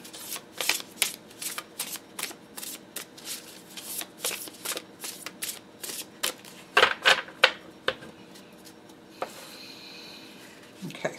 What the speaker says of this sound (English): getting a couple like that to kind of mix those cards up for a new deck especially is important